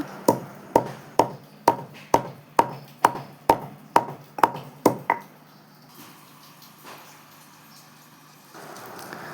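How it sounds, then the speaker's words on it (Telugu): Cardamom pods pounded to a fine powder, about a dozen sharp, evenly spaced thuds in quick succession, close and crisp, followed by quiet scraping and handling. "ఒక ఐదు ఆరు లేదా ఏడు యాలకులు తీసుకొని వాటిని కూడా మనం మెత్తగా దంచుకోవాలి"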